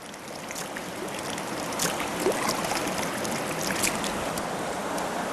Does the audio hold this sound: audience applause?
no